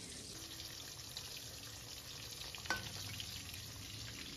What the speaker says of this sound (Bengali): মাছটা বেশি কড়া করে ভাজবো না